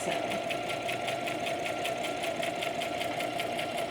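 A sewing machine runs a steady straight stitch across a knotted headband, its rapid even needle chatter continuing without pause, close and fairly loud, with no talking over it.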